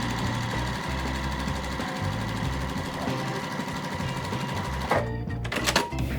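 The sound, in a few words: sewing machine stitching quilt pieces together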